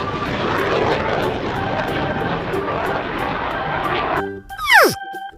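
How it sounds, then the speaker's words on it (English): A jet aircraft roaring loud and close for several seconds, then a sudden cut to a short synthetic whoosh that sweeps sharply downward, with no talking over it. "Jet."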